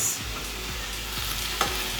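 A constant loud sizzle of spinach frying in a pan, with a few soft scraping stirs and one brief clink.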